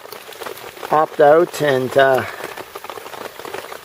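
Steady rain patters outdoors during an all-day downpour on a hunting trip, a dense close hiss running throughout beneath a voice speaking over it.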